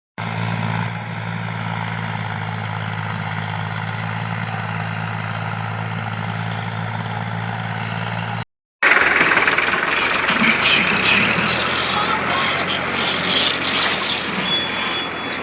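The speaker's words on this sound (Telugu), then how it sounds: "ట్రాక్టర్ కొడుతున్నారు, ఇంకా విత్తనాలు వేస్తారు." Tractor engine running in a farm field during re-sowing after crop loss, a steady loud drone that cuts off briefly midway and resumes rougher and noisier, close by with no talk.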